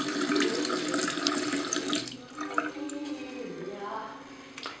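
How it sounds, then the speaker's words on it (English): Water runs steadily from an Italian tap, a continuous close splashing hiss that softens slightly partway, with a person talking faintly beneath it. "Italian running water."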